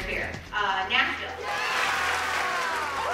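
An audience answers a city roll call with a loud, sustained wash of clapping and cheering that builds after a few brief voices, dense and steady to the end.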